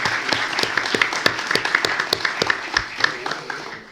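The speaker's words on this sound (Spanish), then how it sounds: "Les pido un gran aplauso para el Banco de España" An audience at a formal event applauds the Banco de España, a sustained spread of clapping with sharp individual claps standing out, close and lively throughout.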